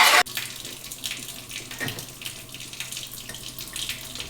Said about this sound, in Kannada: ಪಾತ್ರೆ ತೊಳಿಲೇಬೇಕು